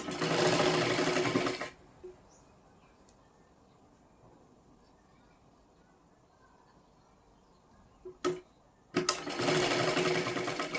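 Blouse fabric is stitched on a sewing machine in two loud bursts of rapid whirring, one at the start and one at the end, with a long quiet gap and faint handling clicks between them.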